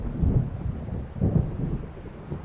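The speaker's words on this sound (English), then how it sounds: "It seems there's a storm coming." In Alan Wake Remastered, a storm is coming in: low, deep rumbling thunder rolls in two swelling waves, with a faint wash of wind and rain behind it.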